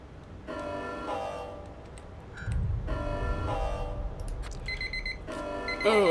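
Timer alarm in the game Planetbase: a repeating electronic tone sounds in three bursts about two seconds apart over a low ambient rumble.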